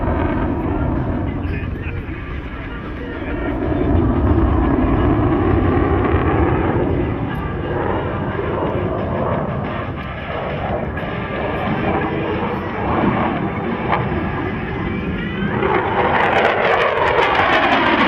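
F-16 Viper fighter jet at an air show flying a slow-speed, high-alpha pass, a loud sustained broadband jet roar swelling and easing steadily across the whole stretch.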